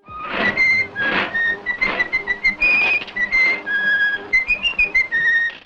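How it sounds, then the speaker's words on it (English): A character whistles the Steamboat Willie tune in the video game Mouse P.I., a clear, loud melody of bright sustained and quick trilled notes played continuously with no talking. "Jack will whistle the Steamboat Willie song from the original Disney animated short"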